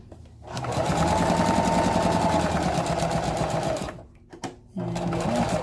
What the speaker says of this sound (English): I'm going to start sewing right about right here.